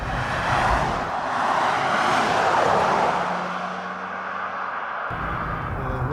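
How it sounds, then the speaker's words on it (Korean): A 2017 Lincoln Continental 3.0 luxury sedan cruises along, heard from inside the cabin as a steady, fairly loud engine and road roar that swells slightly and then settles. "링컨의 고급 대형 세단 컨티넨탈과 함께 달려볼까요?"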